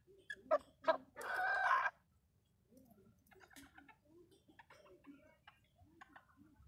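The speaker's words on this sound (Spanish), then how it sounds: "de lujo este gallito." A miniature rooster gives a few short clucking calls up close, followed by a dense, louder burst of vocalizing, then quieter scattered calls and bird sounds.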